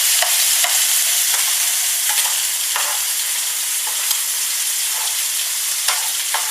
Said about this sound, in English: Our mushrooms have started cooking now.